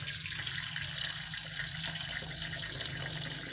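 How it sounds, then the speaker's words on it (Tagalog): Water runs in a steady, soft gush as it is poured into a pan of Tuguegarao longganisa during cooking, beneath a low constant hum. "lagyan natin ng tubig."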